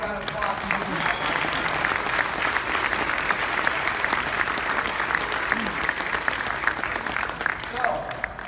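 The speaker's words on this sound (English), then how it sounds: "Let's give her a round of applause." Audience at a business talk gives a round of applause, a thick, continuous wash of clapping that holds steady and loud throughout, with some crowd voices mixed in.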